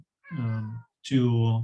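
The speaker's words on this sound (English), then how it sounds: "You can hear my cat probably in the background, wants to go outside" A house cat meows twice from nearby, two drawn-out plaintive calls with a short gap between them, asking to be let outside, clear and fairly loud against a quiet room.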